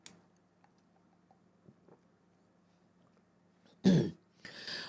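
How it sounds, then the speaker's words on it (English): A single sharp cough bursts out loudly near the end, after mostly quiet background with a steady low hum and a few faint clicks. "Sorry to cough in your ear."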